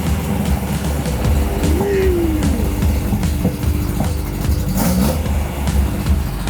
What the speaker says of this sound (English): And now the onboard air compressors are running.